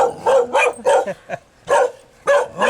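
Two dogs in Sapa, Vietnam bark in a quick run of sharp, close barks, a handful of yips in two bursts separated by a short pause.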